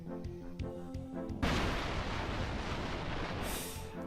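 In the video game Arc the Lad 3, an enemy's fire breath attack erupts as a loud, sustained roaring blast after a quieter musical passage, rushing on for several seconds and swelling near the end.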